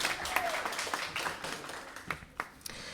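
Applause at a publication release event, a crowd clapping in a fairly full burst that thins into a few distinct, louder individual claps toward the end.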